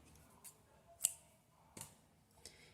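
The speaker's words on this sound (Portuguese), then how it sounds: "Vou cortar o fio com espaço para costura" A few scattered scissor snips cutting yarn during amigurumi crochet work, with one sharp, bright click standing out among softer cuts in quiet surroundings.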